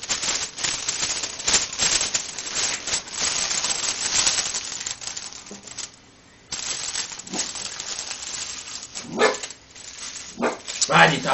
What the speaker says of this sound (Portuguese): Liga não, minha cachorra resmungando.